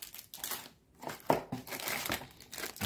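Packaging for an INQMEGA outdoor camera crinkles and rustles up close during unboxing, several quiet irregular bursts of plastic and paper crackle.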